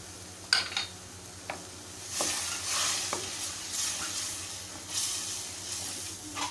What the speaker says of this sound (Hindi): और इस मसाले को अब हम अच्छी तरह से भून लेंगे।